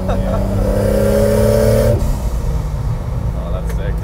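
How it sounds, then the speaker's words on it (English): A loud 1JZ-swapped Toyota Cressida turbocharged engine with an open wastegate idles and revs with a droning, throaty roar that shifts in pitch midway, close and steady throughout. "Does an open wastegate ever get annoying?"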